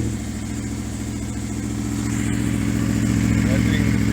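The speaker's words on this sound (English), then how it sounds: "let you listen to the stock exhaust, because this thing is freaking loud just from the factory" Motorcycle engine running through its loud stock factory exhaust, a deep steady rumble close to the microphone that swells slightly louder partway through, with no talking over it.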